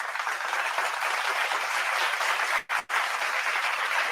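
Steady crowd applause during a postgame show after a Vikings win over the Browns in London, a dense continuous clapping wash with two brief dropouts near the end.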